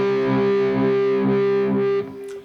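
Very flat perfect fifth in meantone temperament sounding as a sustained, buzzy synthesized interval with a slow, regular wah-wah beating about twice per second, loud and steady before cutting off near the end.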